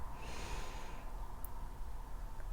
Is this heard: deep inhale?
yes